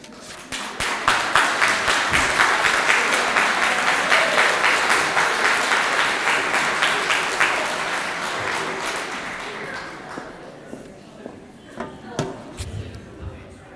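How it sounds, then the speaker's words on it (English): Audience applause at an evening monologue performance event in Memphis, a loud burst of many hands clapping that swells quickly, holds steady, then fades into a few scattered claps, with a voice speaking over the tail. "let's give another round of applause for Nick, Wendy, and Shiloh"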